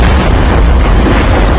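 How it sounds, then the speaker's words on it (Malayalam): A car bomb explosion in a film, heard as a loud, sustained low boom with rumbling debris noise filling the whole moment, close and overwhelming, with no voices. "നോക്കുമ്പോ അവിടെ ഒരു പൊട്ടിത്തെറി."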